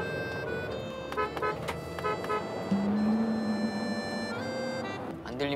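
A car horn sounds in a sustained honk amid steady road and engine noise, with a few faint clicks and bumps around it.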